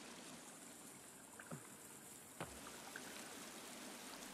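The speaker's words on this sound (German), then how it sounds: "Da ist ein Wasserfall." A waterfall in the survival video game The Forest, a faint, steady hiss of falling water with a couple of soft clicks over it, distant and quiet.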